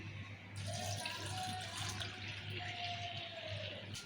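Water running steadily into a vessel of soaked chana dal, a continuous pour with a faint low hum beneath.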